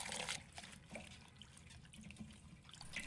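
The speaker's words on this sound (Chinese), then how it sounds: "接着换2至3次清水，反复冲洗，直到盆底不再有沉淀的泥沙。" Lettuce is rinsed in a basin of water, with soft splashing, dribbling and dripping sounds, faint and close, and no voices.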